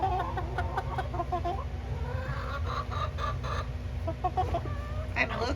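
Chickens cluck and chatter close by in a winter backyard coop, with a run of short repeated clucks and a few longer calls over a low ambient hum, with no talking.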